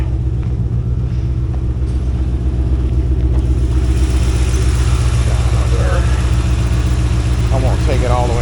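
A 1989 Corvette C4 with the L98 V8 and no mufflers idles loud and close, a steady low rumble with an even, throbbing beat, the engine note brightening briefly near the end.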